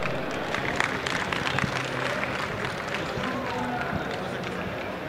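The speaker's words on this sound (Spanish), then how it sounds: "Un fuerte aplauso, por favor." Audience applause at a developers' conference talk on smart buildings, a steady dense wash of clapping from a crowd heard close and fairly loud, with a voice speaking over it.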